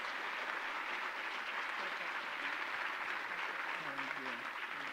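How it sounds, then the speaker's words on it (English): A school audience applauds a Holocaust survivor after her talk, with steady, even clapping that carries on throughout while faint voices murmur underneath. "Let's give her one more round of applause."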